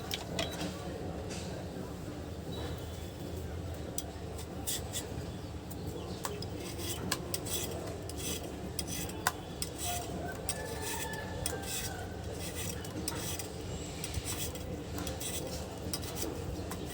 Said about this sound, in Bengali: এখন আলুটা কেটে নিব।